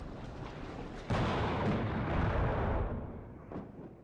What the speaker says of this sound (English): That's close range artillery fire directly on target.